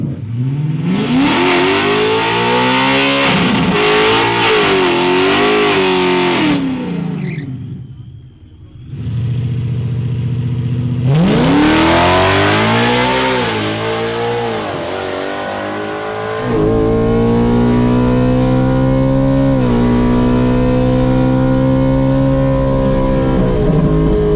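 A loud drag racing car engine roars and revs in long surging pulls as it launches down the track at Ford Nationals, cuts out briefly, then screams back up at full throttle and drones on close by.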